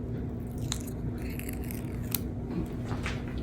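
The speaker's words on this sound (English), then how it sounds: "Just peel the paper" Paper backing is peeled off a white adhesive magnet with a 3M backing, making close, crackly tearing and ripping sounds over a faint background hum. No one speaks.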